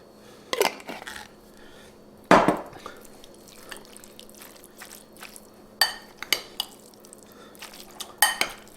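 Lasagna meat sauce being stirred in a pan, with scattered clinks of a utensil against the pan, one sharp scrape and soft wet squelching in between, close and fairly quiet.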